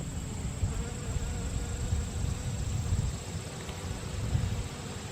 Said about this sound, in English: These are honey bees.